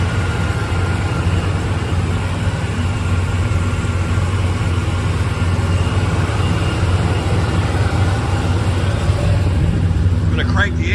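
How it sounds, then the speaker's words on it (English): A Chevelle/El Camino with a ZZ502 big-block V8, Sanderson intermediate headers and full exhaust idles smoothly, a loud, steady, deep rumble that holds unbroken throughout. "Very smooth running motor."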